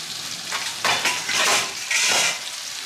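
Longganisa sausage fries in a pan with a loud, close sizzle that swells in several bursts, likely as the pieces are moved or the pan is covered.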